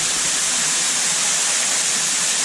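A rushing stream pours through waterfalls in a river cave, a loud, unbroken broadband roar and hiss that fills the space without pause.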